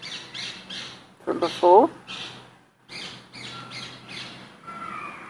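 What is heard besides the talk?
recorded rose-ringed parakeet call played back on phone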